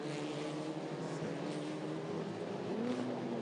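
WTCR touring cars race at Macau in 2018, braking hard into the Lisbon corner: a loud, continuous engine whine with shifting pitch that rises and falls as the cars pass close by, with no voices.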